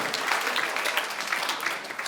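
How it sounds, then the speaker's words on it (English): Steady applause from a stand-up comedy audience, a dense wash of many hands clapping throughout at even loudness with no talk over it. "Yes, clap because it feels good just to shake it up."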